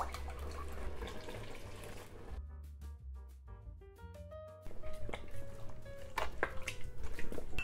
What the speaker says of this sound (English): This is 1 pound of lentils that I rinsed off. And I'm gonna add 4 cups of veggie broth.